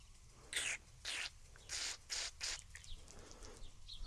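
Several short hissing bursts from a WD-40 aerosol spray can, quick spritzes in an uneven rhythm, fairly faint, on a 1964 Yamaha motorcycle.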